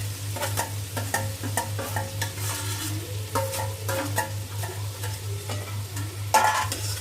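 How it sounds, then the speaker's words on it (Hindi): Steady sizzling of boiled potatoes with fenugreek frying in a pan, with repeated scraping and clinking as they are stirred, over a constant low hum. "1 मिनट भून दूँगी ऐसे ही,"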